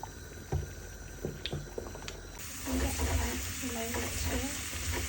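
Garlic frying in oil for a tempering splutters into a loud sizzle partway through, after quieter clinks and stirring taps at the start, with no talking.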